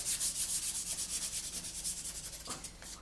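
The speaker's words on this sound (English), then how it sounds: "So we just lightly rub over." Light, even rubbing strokes over the surface of a 1/48 Airfix Sea Vixen plastic scale model, a close, fast back-and-forth swishing that slows slightly before a brief pause and a final stroke.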